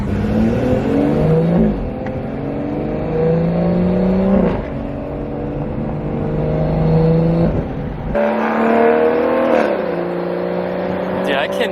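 Loud, raspy car exhaust from an aftermarket system revving repeatedly, pitch climbing and falling in several surges, close and dominant.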